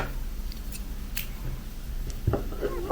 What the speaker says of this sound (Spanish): tiramos de la hebra, cortamos